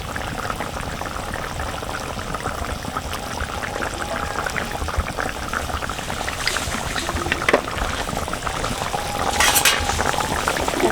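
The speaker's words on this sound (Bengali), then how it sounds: "এখন আমি উপর থেকে একটু সরিষার তেল দিয়ে দেবো" Mustard oil poured over parshe fish frying in a pan gives a loud, continuous sizzle with bubbling that swells toward the end, heard close up.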